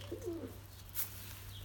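A single short, soft coo comes from pigeons in a breeding loft, faint and brief over a steady low electrical hum.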